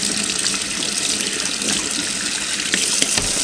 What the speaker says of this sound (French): Et puis on vient le rincer à l'eau.